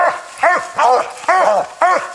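Hunting dogs bay at a raccoon treed in a cedar: five loud, evenly spaced barks from close by, each a short rising-and-falling yelp.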